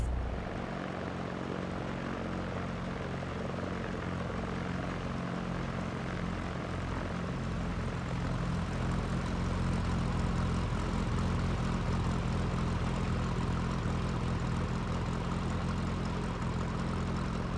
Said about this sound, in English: we'll spin around into the wind, and we'll do our run up